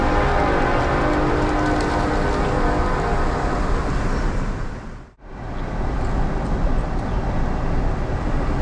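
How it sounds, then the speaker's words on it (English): A train rolls past close to a fishing spot, a loud continuous rumbling roar that holds steady, dips briefly to near silence, then resumes at full strength. "as the train goes by"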